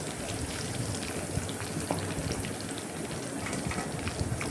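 Chicken pakodi frying in hot oil, a steady dense sizzle with scattered crackles and pops, continuous and close throughout with no talking.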